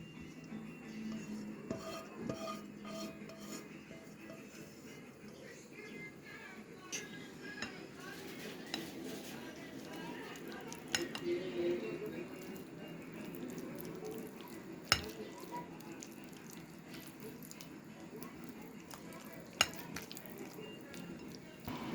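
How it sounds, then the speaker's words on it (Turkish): A spoon stirs cooled beetroot into yogurt in a bowl, giving faint scraping and soft clinks against the dish, quiet and close, with a few sharper taps. "Soğumuş olan pancarlarımı içine ekliyorum"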